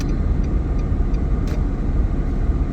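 A car on a road passes in front, a steady loud engine and tyre rumble throughout with no talking.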